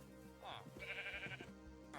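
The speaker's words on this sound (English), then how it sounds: "As I tended to the sheep, a tree grew" Minecraft sheep bleat in survival mode, a pair of short wavering bleats standing out over a soft steady game ambience, fairly close and clear.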